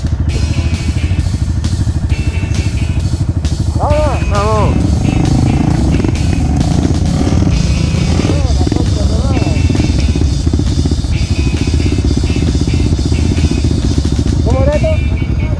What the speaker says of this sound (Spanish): pasó la moto por debajo del tronco